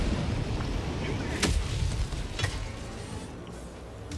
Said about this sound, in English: 500 pound bomb to my cranium.